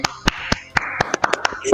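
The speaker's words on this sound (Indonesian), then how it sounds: "Tepuk tangan buat Mas Rizal." Scattered hand claps from a small classroom group applauding a student's comic work, a few sharp separate claps rather than a full ovation, with voices talking over them.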